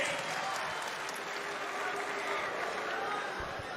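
Spectators at a college wrestling match between Ohio State and Virginia Tech cheer and applaud in a broad, continuous wash of crowd noise, steady and fairly distant, with no clear voice standing out.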